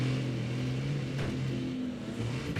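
A racing truck engine in the driving game Wreckfest 2, a steady droning hum with shifting pitch as it revs, heard loud and close without talk.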